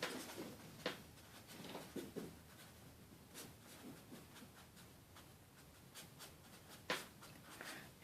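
Pen strokes write out an equation by hand, a faint, close scratching with uneven taps and pauses, quiet and with no talk.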